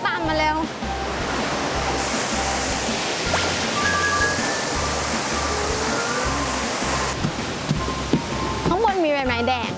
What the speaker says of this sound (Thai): ตอนนี้มาดูน้ำตกอัลวาลอนช์นะคะ